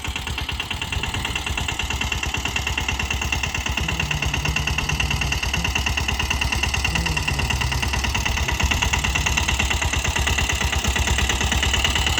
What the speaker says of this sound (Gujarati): આ ટ્રેક્ટર છે ને મેં હાથે બનાવ્યું છે ઘેર જ.